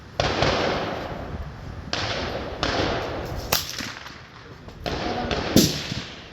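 A suppressed Rossi RS22 rifle fires a handful of sharp, muffled cracks at uneven intervals, close by, with people talking between the shots.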